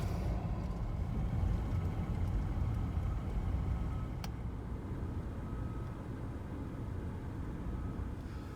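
A 3rd-generation Toyota 4Runner drives through city streets, heard from inside as a steady, low engine and road rumble that stays constant throughout, with one faint click and no talk.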